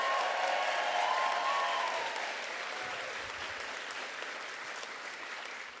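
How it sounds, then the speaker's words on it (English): An audience at a baccalaureate ceremony applauds a graduating class, a dense, even clatter of many hands that stays strong for a couple of seconds and then settles into a softer, sustained clapping. "Would like a big round of applause for everyone."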